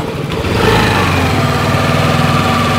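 Yamaha Lexi scooter engine revved hard and held at high revs, a loud, steady close-up drone with no talking.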